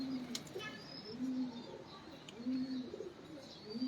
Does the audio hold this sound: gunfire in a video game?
no